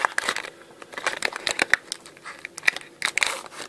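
Primo Choc card display box packaging is torn open and handled at close range: irregular bursts of crinkling and crackling cardboard and plastic, sharp rustles, and brief quiet gaps, with no talking.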